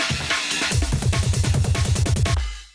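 Layered drum loop from an indie game soundtrack, a steady repetitive pattern of punchy kicks and snappy hits with bright tinny high percussion, loud and alone, then stopping abruptly near the end.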